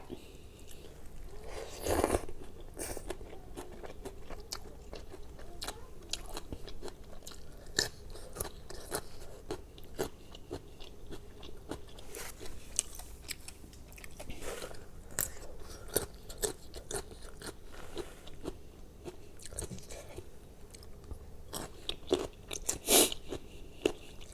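Someone eating Thai papaya and rice-noodle salad with crispy pork cracklings, producing steady close crunching and chewing bites throughout, fairly quiet with no talk.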